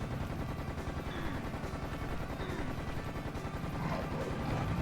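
Continuous rapid bursts of machine gun fire in the video game Serious Sam: The First Encounter rattle on without pause, dense and steady, with layered shots overlapping throughout.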